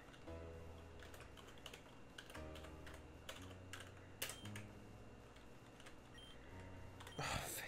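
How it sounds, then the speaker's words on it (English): Fast typing on a computer keyboard while playing an RPG Maker game, a dense rapid clatter of keystrokes that runs steadily throughout, close and fairly quiet, over low game music. "RPG Maker does not take fast typing very well"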